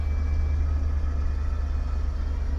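Small Jeep engine held at light throttle while winching a large truck, a steady low rumbling drone close by without clear revving peaks.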